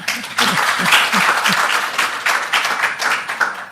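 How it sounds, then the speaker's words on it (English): An audience at a panel session on African electricity markets breaks into applause, a dense burst of many hands clapping, loud and steady, with a few close individual claps standing out at the start. "let's give them a round of applause"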